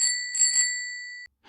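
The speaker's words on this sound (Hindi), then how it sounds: "इस बार उसकी घंटी जोर जोर से बज रही थी।" A bicycle bell ringing in a Hindi horror audio drama about a haunted cycle, bright metallic rings repeated in quick succession, then a sudden cut to silence before a brief soft sound.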